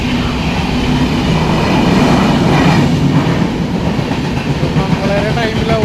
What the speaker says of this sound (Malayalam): Thiruvananthapuram central Lokmanya Tilak Netravati express.